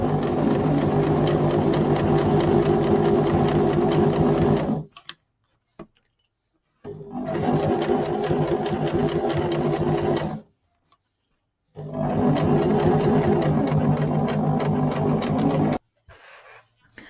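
A sewing machine runs in three sustained bursts of stitching, each about four to five seconds long and separated by short silent pauses. It is loud and close, with no talking.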